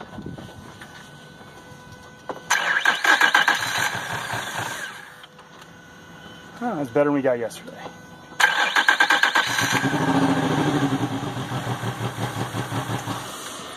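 A fuel-injected Yamaha V6 outboard motor sits on a boat out of the water with water in its fuel. It cranks and catches in two loud runs separated by a short pause. Someone speaks briefly between the runs.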